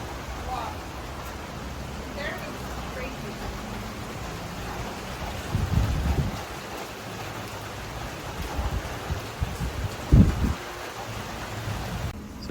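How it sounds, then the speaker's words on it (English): A sudden thunderstorm in Chiang Mai, Thailand, with heavy rain hissing steadily and a couple of low thunder rumbles, one stronger near the end. "Sudden thunderstorm in Chiang Mai."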